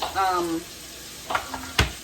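Beef tenderloin sears in a nonstick pan, giving brief sizzling and frying crackles with a few sharp clinks, heard at close range.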